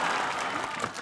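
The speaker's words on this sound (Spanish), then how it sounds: "¡Fuerte el aplauso para Santi!" A comedy show's live audience claps for a game contestant, a brief dense burst of applause that holds steady and loud throughout.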